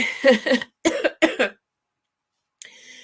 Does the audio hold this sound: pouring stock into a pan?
no